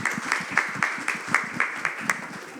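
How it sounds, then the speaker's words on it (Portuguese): A small group at a business summit claps in a slow, even rhythm, about a dozen distinct hand claps spaced roughly a quarter second apart, moderately close. "Uma salva de palmas para a nossa cliente."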